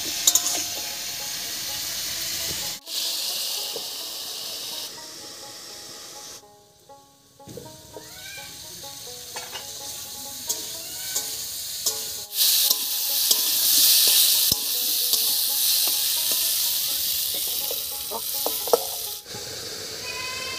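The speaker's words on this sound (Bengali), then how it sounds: "এবারে ঢাকা দিয়ে দিয়ে আলু আর কপিটাকে একটু ভাজা ভাজা মতো করে নেবো।" Potato and kohlrabi frying in a covered pan, a steady sizzle with occasional stirring and clatter, brief pauses where the lid goes on, and louder hissing bursts toward the end.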